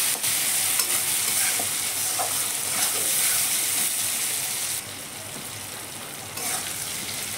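Potatoes frying in oil in a pan for a fish curry with potato and eggplant, with a steady close sizzle and repeated scraping stir strokes. The sizzle drops slightly partway through, and no one speaks.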